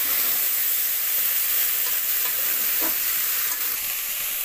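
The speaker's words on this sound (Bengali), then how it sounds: "এটাকে নাড়িয়ে ছাড়িয়ে একটু ভালো ভাজা করে নেওয়া হবে।" Okra, pumpkin and potato with turmeric sizzle loudly in a pan while being stirred, a constant hiss of frying with a few soft scraping strokes and no talking.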